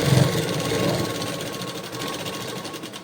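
A sewing machine stitches a straight seam along blouse fabric, a close, continuous rapid mechanical whir with a steady pulsing rhythm that holds throughout without a break.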